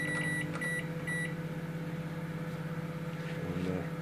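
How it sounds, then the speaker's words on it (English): A microwave oven hums steadily throughout, with a few short electronic beeps near the start and a faint clunk toward the end. "put the first in the microwave for the first stage of 7 minutes"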